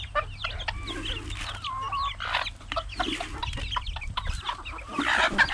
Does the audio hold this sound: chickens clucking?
yes